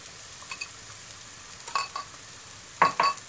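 Eggs for a leek omelette sizzle softly in a pan over lowered heat, with a quiet crackle and a few brief scraping stirs. No voices are heard.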